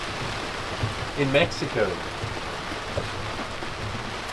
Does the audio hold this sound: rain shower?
yes